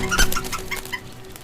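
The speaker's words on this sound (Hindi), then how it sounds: "मैंने देखा इस मुर्गी को" Short clucking of a hen in a dramatic scene, a few quick fowl calls near the start over a low steady background hum, fairly close and moderately loud.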